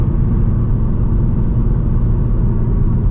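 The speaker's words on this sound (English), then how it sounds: "what does a Catless S650 sound like" A catless Ford S650 Mustang GT rumbles steadily at close range, a dense low engine drone with road noise holding even throughout, no voices.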